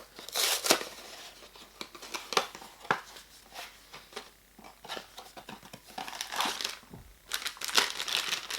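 Plastic crinkles and rips in several short bursts as a bag is pulled and torn open close by, with pauses of quiet rustling between.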